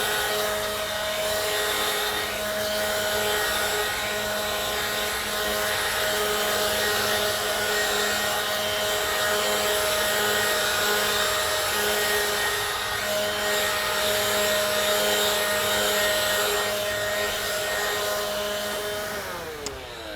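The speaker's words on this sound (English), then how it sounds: "I just blow all of the leaves off the turf, which is how also I take care of the turf." A leaf blower roars steadily in a front yard, clearing leaves off the lawn into flower beds, a loud, close whine holding an even pitch for about twenty seconds before the tone shifts briefly near the end.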